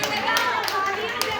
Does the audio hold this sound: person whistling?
no